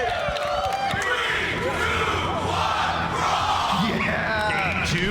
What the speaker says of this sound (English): We got the Daytona crowd going hard here for this match.